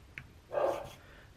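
A single dog's bark sounds once, fairly close, in a room where a Smith & Wesson Model 686 revolver is being cleaned, followed by a short trailing yelp.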